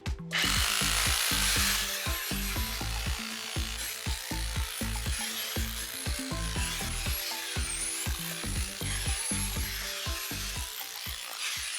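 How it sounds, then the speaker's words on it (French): A jackhammer pounds at a fence post during demolition of a wooden palisade at a house renovation, a rapid steady train of loud close impacts hammering on for the full stretch without pause. "Je vais sûrement le faire avec le marteau-piqueur."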